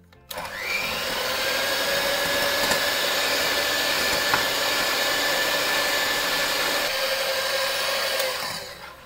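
Electric beater whisking eggs with powdered sugar for a homemade cake, a steady loud motor whine that starts abruptly, holds constant for about eight seconds, then winds down, with no talking.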